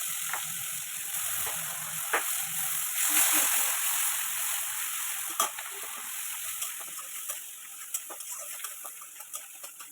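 Onion and garlic paste fries in oil with a steady close sizzle, punctuated by sharp clicks and taps of stirring toward the end.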